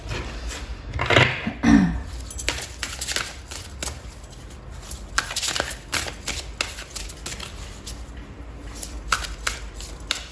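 Tarot cards are shuffled by hand in a steady run of crisp riffling and slapping bursts, close and clear, with no talking over them.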